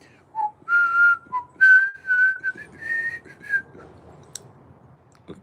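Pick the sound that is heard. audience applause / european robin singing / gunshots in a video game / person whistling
person whistling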